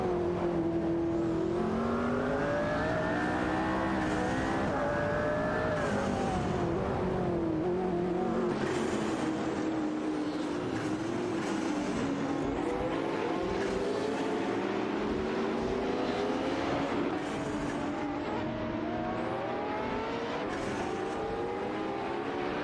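Race cars in a racing video game roar continuously at close range, their engine notes rising and falling through gear changes and overlapping as several cars drive together, loud throughout with no talk.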